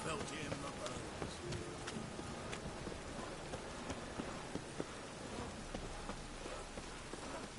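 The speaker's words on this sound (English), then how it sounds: "Rain was coming." Steady rain in The Witcher falls as a dense, even hiss with scattered drop taps, and a voice speaks over it throughout.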